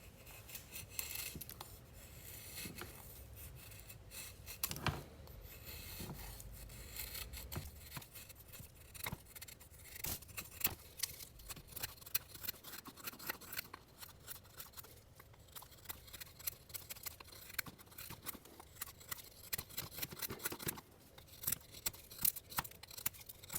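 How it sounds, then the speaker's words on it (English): BMKT Field Spec EDC1 fixed blade knife shaving curls from a pine 2x4, light cuts then heavier pressure: faint, close, irregular scraping and rasping strokes that repeat throughout. "we're gonna do a little wood shaving on this pine 2x4"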